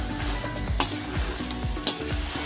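A spatula stirs pumpkin greens with prawns in a hot pan, scraping rhythmically with a couple of sharp metallic clinks under a steady low sizzle.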